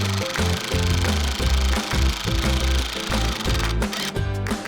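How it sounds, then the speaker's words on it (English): Power drill driving screws into the wooden sides of an Urbanmac kitset raised garden box, a continuous loud buzzing grind with rhythmic pulsing throughout, close up and without speech. "Drill each of these sides into the ends."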